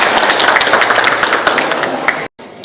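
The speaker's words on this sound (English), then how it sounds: "Give him a round of applause" An audience claps at a restaurant opening ceremony in Melbourne, a dense burst of applause about two seconds long that cuts off abruptly.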